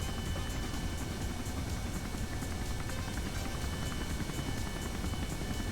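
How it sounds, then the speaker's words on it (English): A helicopter in the Kerbal Space Program video game flies with a continuous, even engine drone and fine rhythmic rotor pulsing throughout, with no talk over it. "I know this helicopter"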